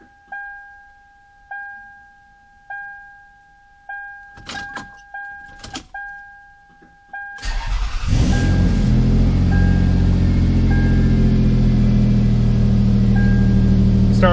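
A car's key is cycled several times with repeated chimes and a whirring fuel pump, then the starter cranks and the engine catches, settling into a loud steady idle up close.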